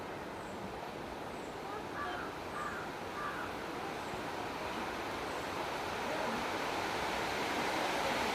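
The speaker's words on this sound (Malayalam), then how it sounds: "മഴ ദൂരെ നിന്ന് വരുന്ന സൗണ്ടാണ് കേൾക്കുന്നത്" A steady, roaring hiss of a heavy downpour approaching from a distance fills the air, with a few faint crow caws early on.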